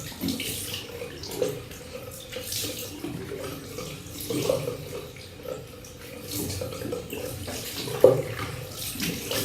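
Cool water runs steadily from a bathroom tap while someone splashes it onto their face before shaving, a continuous close rush with small splashy bursts and no speech.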